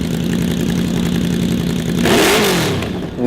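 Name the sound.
modified Yamaha VMax motorcycle engine revving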